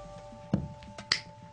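A single sharp finger snap lands during a card trick, bright and close, with a few lighter clicks and handling taps around it in an otherwise quiet room.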